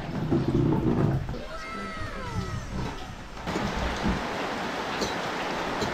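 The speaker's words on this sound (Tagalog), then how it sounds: "It's raining, man. It's raining." Rain falling outdoors during a rainy morning in Puerto Princesa, a steady hiss of drops that grows heavier partway through, with a few faint squeaky chirps over it early on.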